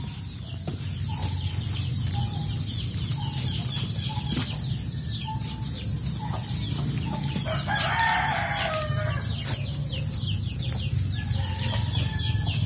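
Chickens and chicks outdoors, with repeated high peeping of chicks, clucking and a rooster crow amid a constant loud insect-like hiss, some wing flapping.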